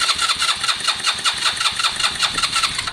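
A small scooter engine cranks over and over in a rapid, steady rhythm, sputtering but never catching, close and fairly loud with no talking.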